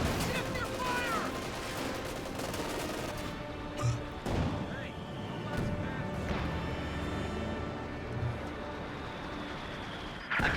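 Heavy machine gun fire in the Company of Heroes 2 strategy game, dense rattling bursts mixed with distant explosions and battle noise, loud and continuous over about ten seconds.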